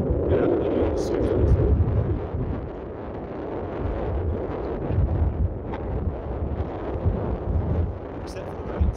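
Strong wind buffets the microphone on a downland hilltop at Chanctonbury Ring, a loud continuous rumble with gusts, and someone talks over it throughout.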